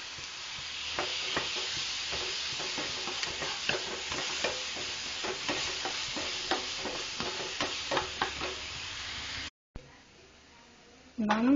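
Crushed onion sautéing in a pan for a sardine curry, a soft sizzle under a regular series of stirring and scraping strokes, followed by a quieter stretch and a brief voice at the end.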